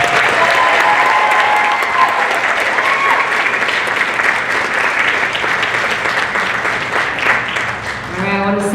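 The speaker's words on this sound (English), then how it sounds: "One more applause for everybody." An audience at a coronation ball claps steadily in sustained, dense applause with a few cheers and whoops mixed in, loud and close, tapering slightly near the end as someone begins to speak.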